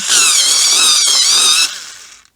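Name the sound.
pencil sharpener sharpening a colored pencil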